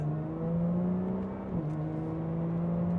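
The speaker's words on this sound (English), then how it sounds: "When I use the paddle here, the upshifts are nice and fluid." A 2020 Lotus Evora GT accelerates on the road, its engine droning steadily from inside the cabin, the pitch dipping briefly midway at a smooth paddle upshift before pulling on.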